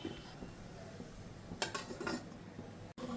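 A metal lid is set down over a cooking pot holding an idli plate, giving a brief clatter and clink of cookware in an otherwise quiet kitchen.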